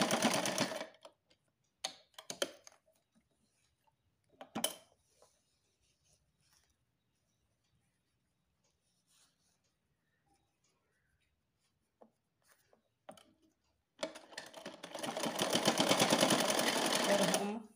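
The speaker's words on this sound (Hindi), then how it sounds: "यहाँ पर सिलाई को एक बार फिर से हम पक्का कर लेंगे" A sewing machine stitches a small doll's flower dress in short bursts of rapid mechanical whirring, with near, moderately loud runs at the start and a longer steady run at the end, separated by quiet pauses.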